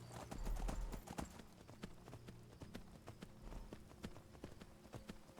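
Horse hooves clip-clop in Skyrim as the mount scrambles up a mountain slope, irregular thuds and clacks at a faint, steady distance with low rumbling underneath.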